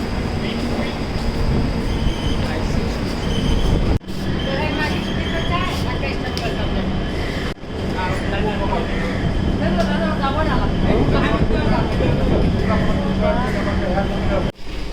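A train running on rails at a station stop, with a steady rumble and clatter of the cars filling the whole stretch, broken by two brief dropouts, and faint voices underneath.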